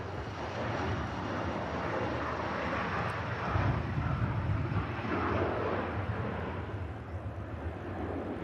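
An EasyJet airliner arriving from Innsbruck comes in to land at Manchester Airport, a steady broadband jet roar held at a distance and swelling slightly midway, with no voices.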